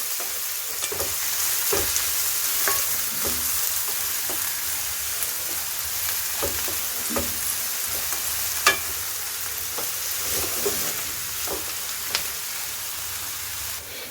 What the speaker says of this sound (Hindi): चलाते हुए आप इसे इस तरीके से भून लें।